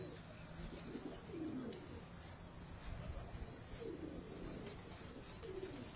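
Pigeons of a Sialkoti bloodline from a family loft coo softly in repeated rolling phrases, faint and somewhat distant, with occasional wing flutters.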